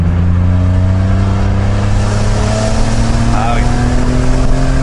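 A car with a manual gearbox and reinforced clutch pulls hard from around 3000 rpm, its loud, steady engine drone climbing slightly in pitch as it accelerates, while people speak briefly inside the cabin.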